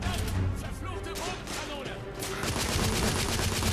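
Gunfire rattles from a weapon in the video game The Order 1886, with dense, rapid bursts of shots close and loud, blending into a continuous barrage across the moment.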